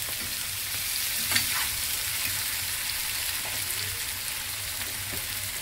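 Dried fish and brinjal curry frying in hot oil, a dense, even sizzle with a faint clink or stir near the start, close and steady for the whole stretch.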